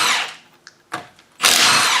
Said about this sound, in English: Use your ratchet to take them off.